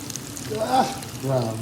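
Breaded chicken fries in oil with a close, continuous sizzle and crackle, and a voice speaks briefly over it.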